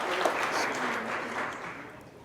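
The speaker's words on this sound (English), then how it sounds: "Let's also make a little noise for Mariana Watachi" A crowd claps and cheers in a moderate, steady burst of applause that slowly fades.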